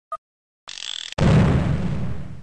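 A cartoon pirate ship cannon in the Fisher-Price Great Adventures Pirate Ship computer game fires after a short pop and a brief fizzing fuse, ending in a loud, close boom that trails off into a rumble.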